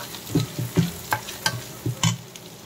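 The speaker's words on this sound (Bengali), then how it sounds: "সব ধরনের মশলাই দিব, দিয়ে ভালো মতো কষিয়ে নিব" Spices with chili and cumin being stirred in a hot pan, a quiet sizzle under a series of sharp scraping clinks of the utensil at an uneven rhythm, with no talking.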